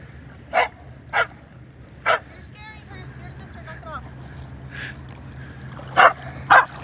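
Dogs at a beach give several sharp, loud barks spaced apart, with softer whimpering and yips between them and a murmur of people talking in the background.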